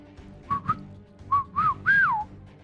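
A person whistles in imitation of a whippoorwill's call: two short paired chirps, then a pause, then a rising-falling phrase ending in a longer swooping note, clear and close over a quiet background.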